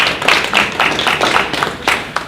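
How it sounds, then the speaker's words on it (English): A student audience at a high school drug and alcohol discussion claps in a brief, uneven patter of scattered hand claps nearby. "Clapping."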